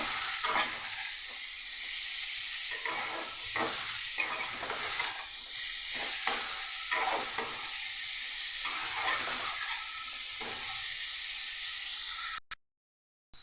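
Green chillies and shrimp fry together in a pan with potato and eggplant, a steady hissing sizzle with repeated stirring scrapes, ending abruptly.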